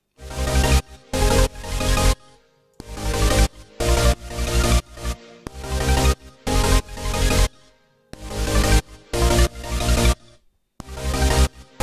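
Layered polysynth and ARP synthesizer chords over bass and piano in an EDM drop, loud and close, chopped into rhythmic side-chained bursts that cut out sharply between hits.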